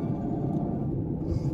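Steady low exhaust rumble from a 1992 Mercedes 600SEL in need of exhaust work, heard from inside while driving, a continuous dense drone with no talking.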